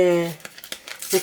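A packet of vanilla sugar crinkles and rustles in a home kitchen during baking. The crinkling comes in brief bursts right after a voice speaks and runs close and moderately loud.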